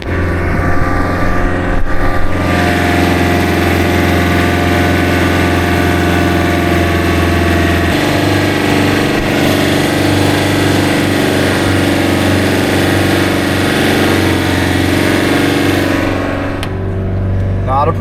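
A Toyota Dyna truck's 2.8L diesel engine runs in four-wheel-drive low range, first gear, with a steady low drone and a slight shift in pitch midway as it barely moves, over faint background noise.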